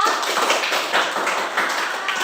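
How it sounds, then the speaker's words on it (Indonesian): Students in a classroom clap their hands together in a brief, lively round, a close and steady patter of many small claps with no talking over it. "Tepuk tangan Pak Lina ya."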